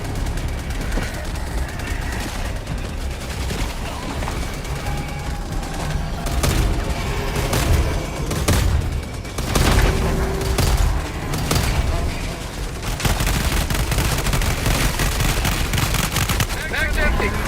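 Constant gunfire and rattling bursts from the Helldivers 2 video game roar loud and dense throughout, with booming impacts mixed in and voices speaking over the combat.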